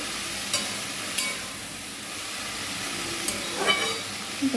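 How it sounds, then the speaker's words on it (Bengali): Potatoes with turmeric are stirred in a pan, under a steady hiss of cooking and a few faint scraping clicks of the utensil. "হলুদ দিয়ে আমি একটু নাড়াচাড়া করে হালকা আঁচ করে ঢাকা দিয়ে দেবো"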